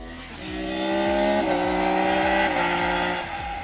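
A Triumph Daytona 660 motorcycle engine revs up with a rising, smooth multi-cylinder howl, with an airbox intake drone audible, heard loud and continuous for a few seconds.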